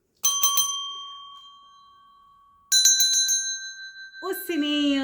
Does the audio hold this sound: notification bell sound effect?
yes